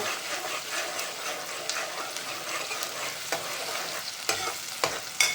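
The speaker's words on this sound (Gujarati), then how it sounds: "ચાલો હજી ડુંગળી પકાવવાની છે આપણે થોડીક." Onions sizzle steadily in a pan for a dry fish curry, a continuous close frying hiss with occasional stirring scrapes and clinks.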